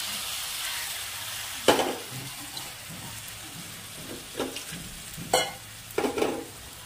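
Spice paste of chilli powder loosened with water added to a hot pan for vegetarian jackfruit curry, a steady close sizzle broken by several sharp bursts of stirring and spattering, with no one talking.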